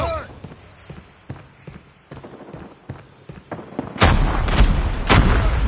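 Call of Duty firefight: a run of sharp gunshots crackles at a steady pace, then a loud frag grenade explosion bursts in and is followed by heavier blasts and gunfire, with a brief voice line at the start.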